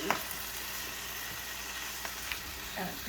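Kale frying in a pan for bacon fideo gives a steady, fairly quiet sizzle throughout, with a few faint utensil clicks and no talk.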